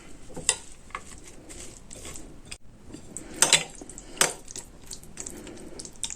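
A spoon clinks and scrapes against a bowl while Bulgarian meze ingredients, including red pepper flakes, are mixed, with intermittent close metallic taps and soft stirring.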